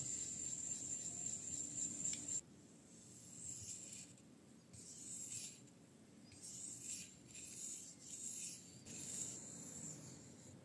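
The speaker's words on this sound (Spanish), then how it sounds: "usaré esta pequeña piedra nagura para crear un poco de pasta" A small nagura stone is rubbed across a whetstone to raise sharpening paste for a knife, giving quiet, rhythmic scraping strokes that come in repeated short passes with no talking.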